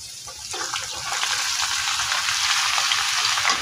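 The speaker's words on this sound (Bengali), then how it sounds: "তো এখন আমি এর মধ্যে দিয়ে দিব সেই আগে থেকে সেদ্ধ করা সবজি" Pre-boiled vegetables hitting hot oil for fried rice, a loud, dense sizzle that swells after the first second and holds steady and close with no talk.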